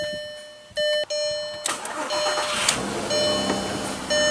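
A VW Jetta GLI with a 24-valve VR6 engine is started up just after a valve cover and intake manifold gasket change. A whirring crank gives way to the engine catching and settling into a steady idle, close by and with no talk.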